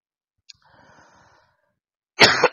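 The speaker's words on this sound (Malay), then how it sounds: "Baru dibilang udah batuk-batuk." A single harsh cough bursts out near the end, loud and close, preceded by a faint breathy sound in a quiet room during a religious lecture.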